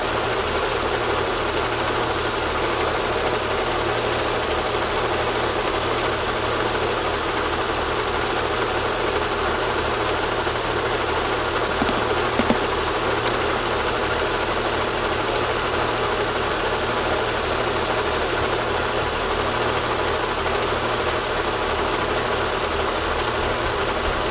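A car engine idles steadily, a low continuous rumble with an even hum that holds unchanged throughout, with no voices.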